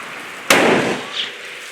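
A single loud gunshot from a CVA Apex rifle fired outdoors at a ground target, a sharp crack followed by a rolling, fading boom.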